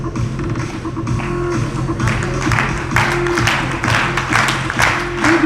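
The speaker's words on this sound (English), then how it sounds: "Big round of applause on that one." Audience applause at a book launch, a dense wash of clapping that swells and holds steady throughout, with a faint voice and a steady low hum running underneath.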